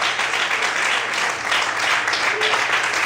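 A church congregation applauds in praise during an evening service, a dense, steady wash of many hands clapping close by that fills the whole stretch without letting up.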